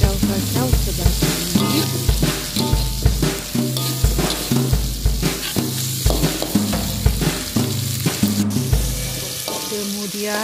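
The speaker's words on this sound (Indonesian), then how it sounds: "Sedikit serbuk perencah cendawan, kacau-kacau sebati." Vegetables sizzle steadily in a frying pan as mushroom seasoning powder is stirred in, with a loud, rhythmic scraping of the utensil against the pan throughout and no talk.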